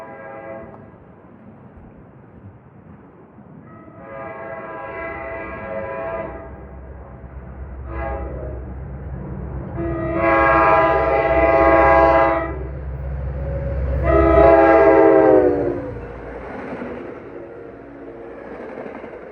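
An NJ Transit commuter train on the Port Jervis line sounds its horn repeatedly while approaching: several long chord blasts growing louder, over a rising low rumble of the diesel locomotive and cars, no talk.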